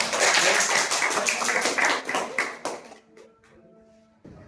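Schoolchildren clap together at the end of a classroom talk, a loud burst of applause that thins into scattered claps and fades out after about three seconds, followed by near silence.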